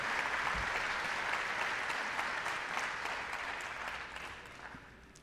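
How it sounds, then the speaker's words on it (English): Audience applause at a school hall of fame induction ceremony, a steady wash of many hands clapping throughout that slowly fades toward the end, with no talking over it. "Let's have a big round of applause for them and for Ronnie."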